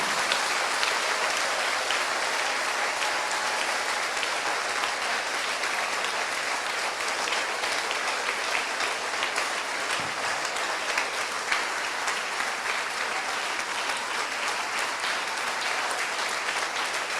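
A church congregation claps steadily and loudly for a long stretch during a live communion service, a dense even wash of applause with no pauses.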